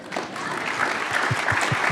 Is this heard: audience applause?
yes